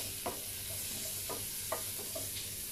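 Onion sizzles softly in melted butter in a pan, with four or five light stirring scrapes over a low, steady frying hiss, close-up and with no talking.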